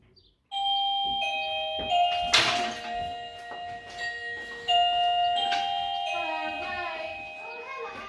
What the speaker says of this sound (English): Can you ring the doorbell please?